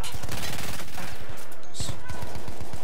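A Perosa submachine gun fires in Battlefield 1 multiplayer, a rapid rattling stream of close shots in short bursts with a brief pause between them.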